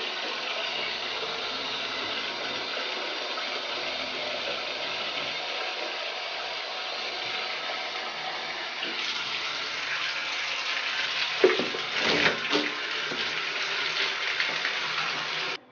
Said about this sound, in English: We need our rinse cup filled with hot water to rinse the shower walls to prevent mildew and water spots.